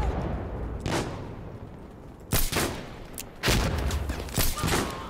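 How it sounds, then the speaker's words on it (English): A grenade goes off in the video game Insurgency Sandstorm: several sharp, loud blasts and bursts of gunfire crack out in quick succession over a background rumble. "I'm throwing a grenade!"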